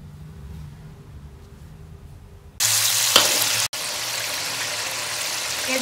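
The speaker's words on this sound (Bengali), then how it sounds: "এবারে ভালো করে নেড়ে নিই।" Egg chicken hakka noodles with added sauce being stirred in a pan: a low quiet hum gives way abruptly to a loud, steady hiss of sizzling, with a brief clatter partway through.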